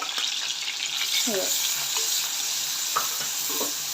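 Cumin and mustard seeds splutter in hot oil, giving a constant close sizzle with a few sharp pops and crackles scattered through it. No voice is heard.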